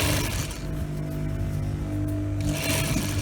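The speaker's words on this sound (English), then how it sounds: "I'm going to follow the previous sewing line to join the sides" A sewing machine runs in a steady, fairly quiet whir while stitching the side seam of a blouse bodice, with a brief pause partway through.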